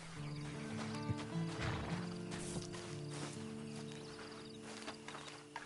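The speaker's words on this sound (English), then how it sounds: "you better get on this horse" A horse in Red Dead Redemption 2 whinnies while its hooves clip-clop steadily over a continuous low background hum, at a moderate and fairly distant level.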